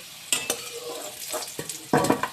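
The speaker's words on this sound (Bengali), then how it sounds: "আলুটাও একটু লাল লাল করেই ভেজে তুলে নেবো" Potato pieces tossed with salt and turmeric fry in hot oil until reddish, a steady close sizzle broken by several clattering stirs of a utensil against the pan.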